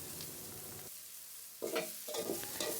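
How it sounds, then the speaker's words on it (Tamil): Ginger garlic paste fries and gets stirred in a hot pan of tempering for a chicken curry. There is a steady sizzle, a brief quieter gap, then louder scraping bursts of stirring, with no talking. "இப்போ இஞ்சி பூண்டு பேஸ்ட்டை சேர்த்து அதோட பச்சை வாசனை போகிற மட்டுக்கும் நல்லா மிக்ஸ் பண்ணி கொள்ளலாம்"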